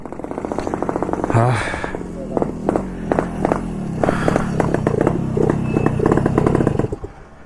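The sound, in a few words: motorcycle engine running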